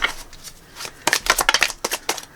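A deck of tarot cards is riffled and shuffled in quick, crisp bursts of flapping, close and clear.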